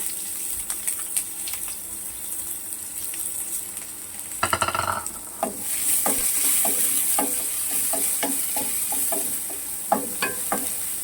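Onions fry in oil for a bitter gourd fry, a soft continuous sizzle close by, with a brief rush of running water midway and a series of light spoon taps and scrapes against the pan.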